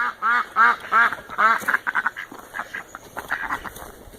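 Several ducks quack in a quick, close series of loud nasal calls, then quieter scattered quacks follow.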